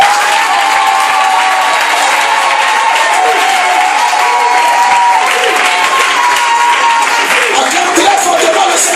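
A church congregation at a prophetic worship service applauds and cheers loudly and continuously, a dense, steady wall of clapping with raised voices mixed in.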